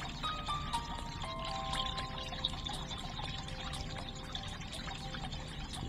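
Water pours and trickles in a fountain puzzle game. A soft, continuous splashing stream runs throughout, broken by regular light ticking clicks and faint tonal chimes, with no talk.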